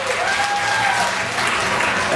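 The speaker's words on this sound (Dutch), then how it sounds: "Applaus voor Maureen." A crowd applauds steadily for a woman called up at a lively Dutch party-music show, dense clapping throughout with a faint tonal whistle or feedback line above it.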